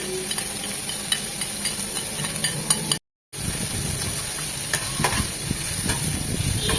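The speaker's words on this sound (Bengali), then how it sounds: "পেঁয়াজ, রসুন, চিলি ফ্লেক্স, ধনে পাতা, পুদিনা পাতা, কাঁচামরিচ সব এখন তেলে ভালোভাবে ভেজে নেব।" Onion, garlic, chili flakes, coriander leaves, mint leaves and green chilies fry loudly in hot oil for a spicy masala chicken fry, a steady close sizzle with spatula stirring, broken by a brief dropout partway through.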